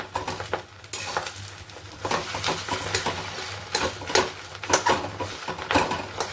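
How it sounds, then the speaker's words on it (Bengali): Fish roe sizzles in a pan while a spatula scrapes and taps against the metal in irregular strokes, close by, with no voices. "এবার ডিমটাকে আমি উল্টে দেবো, উল্টে দিয়ে ভালো করে ভেজে নেব।"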